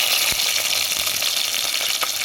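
Onions dropped into hot oil after garlic has finished frying, for a village-style country chicken rasam, giving a steady, close, loud sizzling hiss with a few faint clicks throughout.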